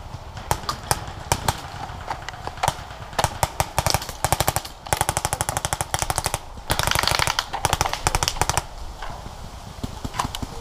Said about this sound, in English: Being that I'm shooting first strike rounds, I could take these enemies out with ease.